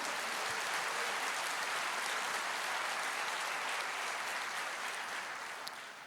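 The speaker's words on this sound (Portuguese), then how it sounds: "você pode dar uma salva de palmas para o Senhor?" A church congregation claps in sustained, dense applause during a service, a steady wash of many hands that holds level for about six seconds and then slowly tapers off.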